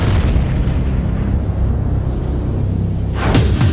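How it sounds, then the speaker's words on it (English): A deep, rumbling explosion-welding blast roars continuously, loud and broad, with a fresh burst of crackling near the end. "It's called explosion welding."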